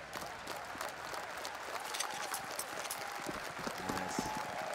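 Esports arena crowd at a CS:GO Major semi-final cheering and clapping, a dense continuous wash of applause and cheers at moderate distance with game sounds faintly mixed in.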